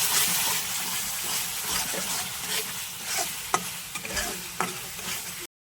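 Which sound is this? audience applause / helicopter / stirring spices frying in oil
stirring spices frying in oil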